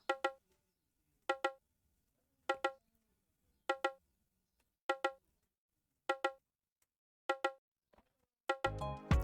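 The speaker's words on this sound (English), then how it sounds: "It's a bongo drum." Bongo drum sample in FL Studio for an Afrobeat beat, struck in a steady pattern of sharp, pitched double hits spaced about a second apart, dry and clean against silence, with a brief noisy burst at the end.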